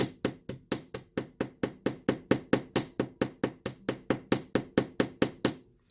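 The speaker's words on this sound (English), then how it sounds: "you can just hammer right through the tape" Steady rapid hammer blows on wire through masking tape, about two dozen sharp metallic taps in an even rhythm, close and fairly loud, with no voices.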